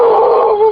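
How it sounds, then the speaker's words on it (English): A single short, loud howl from a dog close by, a sustained wavering tone that dips slightly toward the end. "that's our dog, Rosie."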